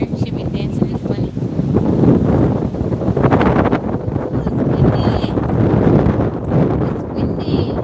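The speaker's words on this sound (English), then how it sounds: "Ooh, it's windy." Wind buffets the microphone outdoors in heavy, uneven low rumbling gusts that run throughout, with a voice faintly underneath.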